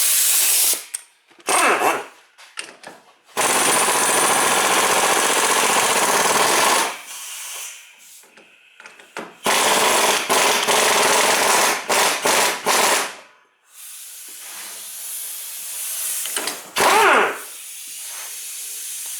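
An air impact gun hammers on a 30 mm 12-point rear wheel bearing nut on a 2004 Toyota Highlander, loud close bursts of rapid rattling separated by pauses and faint hissing from a leaky air line.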